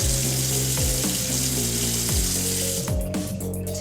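Tap water runs steadily into a sink to wet a makeup brush, a close, continuous splashing stream with a few brief knocks and shifts as the brush moves under it.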